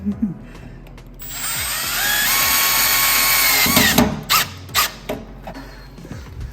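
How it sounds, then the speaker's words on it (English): A power drill drives screws into the floor during a solar equipment install, a sustained whirring run followed by several short, loud bursts, with faint talk in the background. "I'll just screw this one to the floor."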